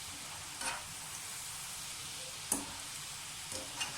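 Restaurant-style French fries sizzle steadily in hot oil, a soft continuous hiss with a few faint clicks and taps over it.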